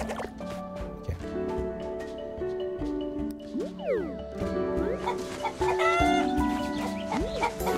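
Several chickens cluck and call in short, overlapping, fairly faint bursts, with a few rising squawks, against a soft background hum.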